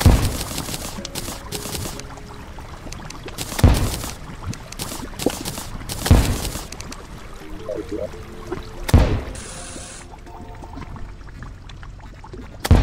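Grenades thrown by a demolition character explode against a fire imp in a video game: four loud, sharp booms at roughly even intervals of a few seconds, over a steady bed of busy game noise, with no talking.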